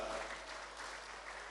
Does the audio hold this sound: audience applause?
yes